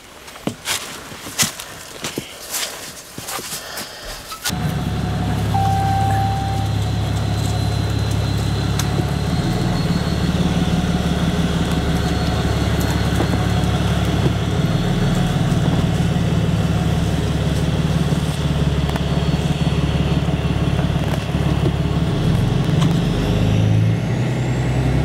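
An antique farm tractor, just pulled from a creek and in need of work, starts up after some scattered clunks and footsteps, then runs with a loud, steady, rumbling engine drone that lasts continuously while it is driven.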